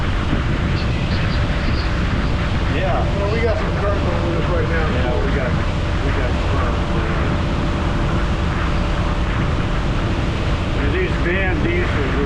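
Blown, turbocharged diesel engines of a boat run steadily on a river canyon, a dense continuous low rumble and rush that lasts throughout, with voices talking over it.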